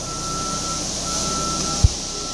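A concrete truck reverses at a large commercial slab pour, its steady backup beeper tone running continuously alongside engine hum, with one sharp thump near the end.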